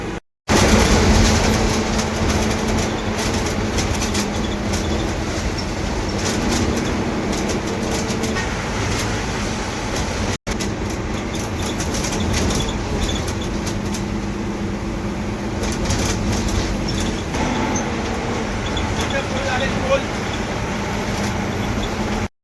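Steady, loud drone of an MSRTC Tata BS6 Hirkani bus cruising on the Vashi highway at night, a continuous rumble with rattles and brief clicks, no talk.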